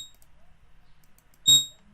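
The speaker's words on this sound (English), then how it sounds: "Sorry for the alarms." Electronic alarms go off as a brief, faint high-pitched tone at the start and then a single loud, sharp beeping chirp partway through, with near silence in between.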